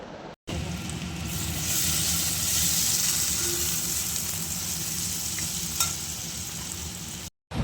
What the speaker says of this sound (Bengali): দিলাম হলুদ গুঁড়ো, তারপরে দিলাম লঙ্কার গুঁড়ো, তারপরে ভালো করে কষিয়ে নিচ্ছি।